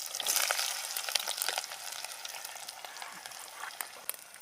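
Chopped onions frying in hot oil for a millet mixer curry, a steady close hiss and sizzle with scattered pops and crackles throughout, and no voices.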